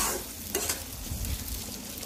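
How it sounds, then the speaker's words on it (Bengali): Onions frying in oil in a home kitchen pan, a steady close sizzle with a brief clatter of stirring partway through, no voices over it. "পেঁয়াজটা ভাজছি, পেঁয়াজটা ভাজা হয়ে গেলে টমেটো দিব"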